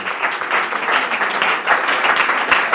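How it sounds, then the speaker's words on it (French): Steady, dense applause from an audience, a continuous wash of many hands clapping at full strength throughout. "Je vous prie d'applaudir très fort"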